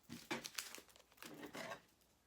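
Vinyl transfer tape pulled back off a Dollar Tree wooden farmhouse cross, giving soft, close crinkling and tearing rustles in two short bursts, faint and without talk.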